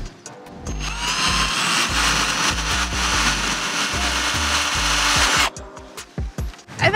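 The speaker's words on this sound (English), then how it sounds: "Instead of drilling the hole the same size as the screw, we're gonna start with a smaller drill bit to get it started." A power drill with a small bit bores a pilot hole into wood for a homemade bait cannon. The motor whines loudly and continuously with grinding and chattering for about five seconds, then stops, leaving a few light knocks.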